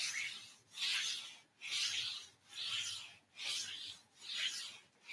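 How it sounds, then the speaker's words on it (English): Hands rub up and down the legs during a gentle yoga session, making five or six steady rhythmic swishing strokes of skin or fabric friction, close and fairly soft, with no voices. "You can rub up and down the legs a little bit."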